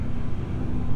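A Porsche GT3 sports car roars past at close range on a highway during a street takeover in Mexico, a loud, steady engine and road rumble filling the whole second.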